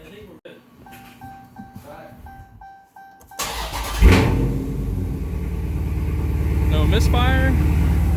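A Can-Am Commander UTV running E85 cranks and fires, then settles into a loud, steady idle with a rising rev, close up, after someone talks briefly over a quiet start.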